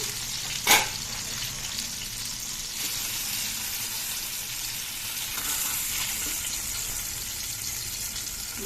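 Steady broadband sizzle of eggplant frying in oil, a continuous hiss with a brief sharper clatter near the start; no talking.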